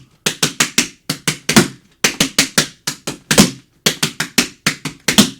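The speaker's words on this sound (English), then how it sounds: "The other common problem is people rushing the transition from the end of one time step, a step," Tap dance triple time steps with the transition into the stomp of the next step rushed, heard as crisp clusters of sharp metallic taps and heavier stomps in quick, slightly hurried rhythmic groups, close and clear with no voices.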